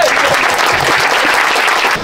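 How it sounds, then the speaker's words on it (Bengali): Loud, dense applause from an audience at a pigeon lovers' programme, steady clapping sustained throughout with no speech over it. "জোরে হাততালি, একটা জোরে হাততালি।"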